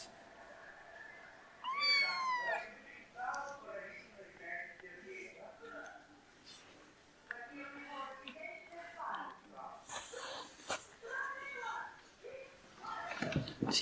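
Month-old kittens give several high, wavering meows, some close and some fainter, scattered among indoor rustling while someone talks over them.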